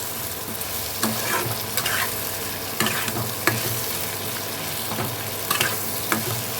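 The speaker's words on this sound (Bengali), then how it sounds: "এখন লবণটাকেও টমেটোর সাথে খুব ভালো করে মিশিয়ে নেব" Raw tomatoes being stirred with salt in a hot pan, a steady sizzle and fry under repeated scraping strokes of a spoon at a regular rhythm, close and fairly loud, with no talking.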